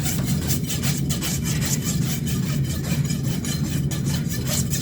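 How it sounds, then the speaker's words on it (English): Farrier's rasp filing the wall of a horse's hoof during shoeing, rapid rhythmic scraping strokes repeating steadily and close by with no speech. "the rasp is picking up pretty much everywhere on this side"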